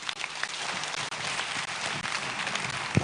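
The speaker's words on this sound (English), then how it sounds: "Round of applause for our president, for the President of the Republic of Ghana" An audience at a national teachers' association conference in Ghana applauds the President of the Republic, a broad, continuous wash of clapping from a large hall, loud and unbroken.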